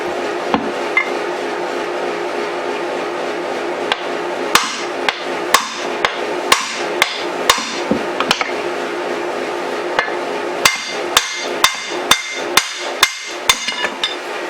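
Brass hammer striking parts of a worn Stihl TS400 cut-off saw during a teardown, sharp metallic blows in irregular bursts, some single and some in quick rapid series, close and loud over faint background noise, no talk.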